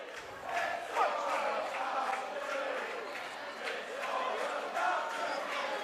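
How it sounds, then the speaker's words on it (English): Home rugby league crowd at a Sheffield Eagles match, a steady wash of applause and cheering rising and falling with broad crowd noise throughout, moderately loud and distant-sounding. "That's the applause you can hear from the home fans."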